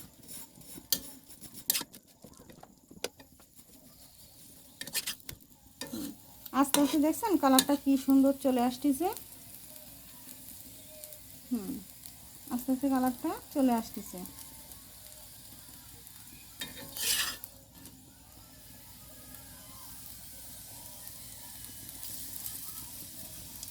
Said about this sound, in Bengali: আমি ভাজার জন্য আমি কড়াইতে রুটিটা দিয়ে দিলাম